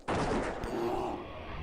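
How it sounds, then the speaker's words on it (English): Hunter's shots at a target dummy in World of Warcraft, Mists of Pandaria: a sharp loud burst at the start followed by a sustained ringing, rumbling tail, with a second hit partway through. "Start shooting at a target dummy"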